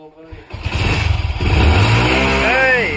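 A motorcycle engine catches and revs close by, rising and pulsing loudly while people talk and shout over it.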